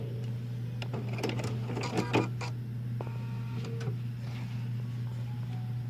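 A Bernina sewing machine stitches a zipper in place, a steady mechanical hum running throughout with light ticking and a few clatters partway through.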